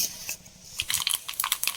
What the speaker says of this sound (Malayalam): കടുകൊക്കെ പൊട്ടി വന്നിട്ടുണ്ട്